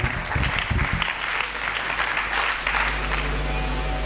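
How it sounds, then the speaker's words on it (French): A church congregation claps loudly and steadily at a sermon, a dense roar of many hands with some low voices and murmurs underneath, close and filling the room throughout. "Nous acclamons très fort pour le roi de l'homme."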